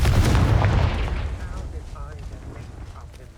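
A fiery Confringo blast spell in Hogwarts Legacy erupts loudly with a booming burst at the start, then its rumble slowly fades beneath lingering crackle and ambient game sound.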